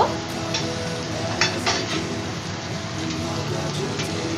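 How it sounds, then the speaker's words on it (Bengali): Masala paste frying in oil for Bengali tel potol, a close crackling sizzle with brief stirring clatters and scrapes across the pan. "আমি আরেকটু মশলাটা কষিয়ে নেব"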